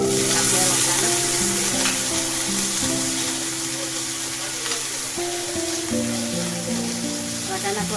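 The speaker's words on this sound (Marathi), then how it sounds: "जिरे मोहरी चांगलं भाजलं" Cumin and mustard seeds fry in a pan with a dense, steady sizzle and popping crackle, close and loud throughout, while a faint tonal hum and some background sounds sit underneath.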